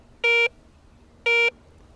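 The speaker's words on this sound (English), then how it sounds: "such as jewelry, nickels," Two short, even electronic beeps from a Garrett Ace 250 metal detector signal a medium-conductivity target such as jewelry, nickels or foreign coins, each about a quarter second long and separated by a one-second gap.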